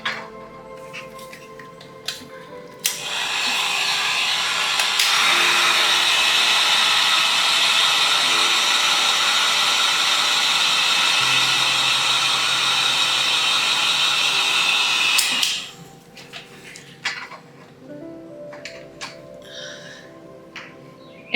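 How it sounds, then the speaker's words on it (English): A heat tool drying paint on an axolotl painting blows a loud, steady hiss for about ten seconds, with scattered small clicks and handling sounds before and after. "So I'm actually going to use a heat tool to dry it."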